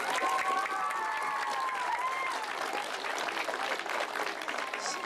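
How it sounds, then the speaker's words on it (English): A crowd at an El Monte community gathering gives Cynthia a big round of applause, with thick continuous clapping and some cheering, loud and close throughout. "Let's give Cynthia a big round of applause."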